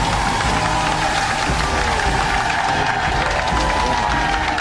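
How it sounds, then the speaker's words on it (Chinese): A studio audience on a Chinese relationship-mediation TV show applauds as a guest enters, a loud, continuous wash of clapping that sounds almost like heavy rain and holds steady throughout. "掌声请出他，掌声有请"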